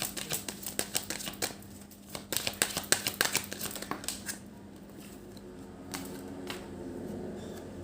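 Tarot cards are shuffled by hand in a rapid run of crisp riffling slaps and flicks, clustered and uneven, then easing into softer scattered card sounds toward the end.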